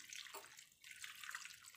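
Water poured into a cooking pot while making a cauliflower dish in a home kitchen, a faint, continuous splashing stream lasting under two seconds.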